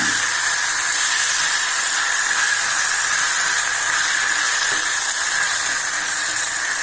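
Eggplant sautés in hot oil in a pan for a tamarind curry (puli kuzhambu), giving a steady, loud, broadband hiss and sizzle that runs unbroken throughout with no talking.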